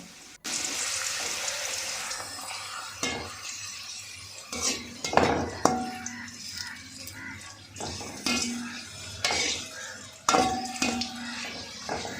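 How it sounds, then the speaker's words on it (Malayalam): Pappadams fry in hot oil with bursts of crackling sizzle among clattering utensil knocks and pan scrapes, close by, with intermittent loud peaks over about twelve seconds and no speech. "നമുക്ക് പപ്പടത്തെ ഒന്ന് നല്ലതുപോലെ ഒന്ന് സെറ്റാക്കി നമുക്ക് വറുത്ത് മാറ്റിയിടണം കേട്ടോ"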